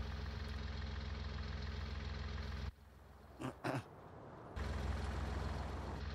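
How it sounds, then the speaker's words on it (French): Tractor engine idling in Farming Simulator 19, a steady low mechanical drone that cuts out abruptly midway, leaving a quiet gap with a couple of brief bumps before the engine hum returns just as loud. "Ah merde, j'ai pas éteint le moteur."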